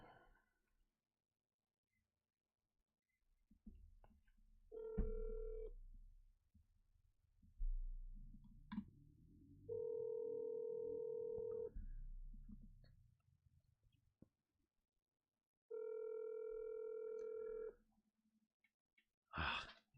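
Phone call ringback tone while calling a dad, three steady electronic tone pulses at intervals, faint and close, with low rustling and background murmur between rings.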